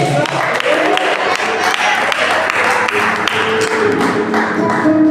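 A crowd at a church service applauds steadily, dense clapping sustained throughout, with a voice faintly mixed in underneath.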